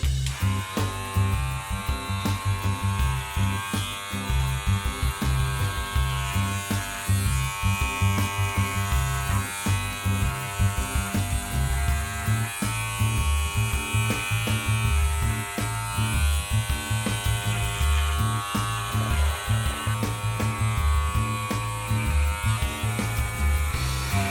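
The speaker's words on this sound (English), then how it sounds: "It is a cordless rug shaver, rug carver." A cordless rug shaver trims excess tufted yarn from a handmade rug, producing a loud, steady electric buzzing whir that runs without pause and shifts slightly as the blade moves across the pile.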